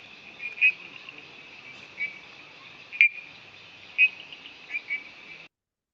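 Typewriter bush frog calls ring out as five or six short, sharp clicks spaced about a second apart over a steady high insect-like hiss, then end abruptly.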